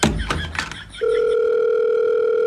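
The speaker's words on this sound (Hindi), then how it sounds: "एक ही बार फोन लगाऊंगा" A steady telephone dial tone follows a brief burst of rustling handling noise, then holds a clear, continuous two-note hum for the last second and a half as a call is placed.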